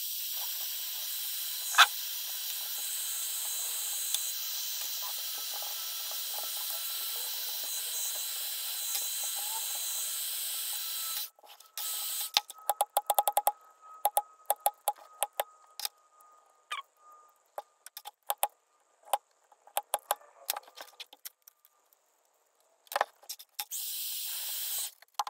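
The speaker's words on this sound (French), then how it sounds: "je chauffe, je gratte, je chauffe, je gratte, jusqu'à ce que j'enlève tous les morceaux de verre" Sped-up work heating and scraping broken glass off a phone's metal back frame: a steady hiss of hot air for about eleven seconds, then rapid, irregular scratchy scrapes in dense bursts, close and fairly loud, with no talking.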